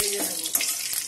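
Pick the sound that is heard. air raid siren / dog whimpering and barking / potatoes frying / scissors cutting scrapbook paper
potatoes frying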